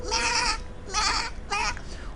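A man imitates a goat with his voice, giving three loud, nasal, wavering bleats, each about half a second long, in close succession and alone, as part of a comedy mimicry performance.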